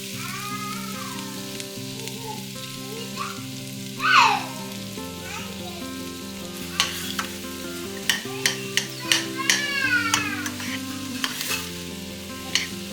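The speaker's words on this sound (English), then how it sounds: "I'm going to heat up some oil to start sauteing those veggies for the tomato soup" Vegetables for tomato soup sizzle and crackle in hot oil with occasional stirring, while soft background music plays steadily underneath.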